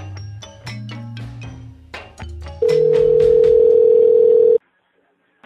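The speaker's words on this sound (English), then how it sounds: "you could hear it ringing when I answered the phone" A telephone call in progress: a series of short tonal beeps and chirps followed by a steady, loud ringback tone lasting about two seconds, then a sudden cutoff to near silence.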